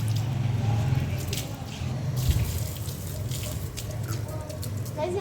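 Water splashing and running across a floor as a house is washed down, a steady wet wash with scattered spatter, close by and continuous, with a voice talking faintly over it.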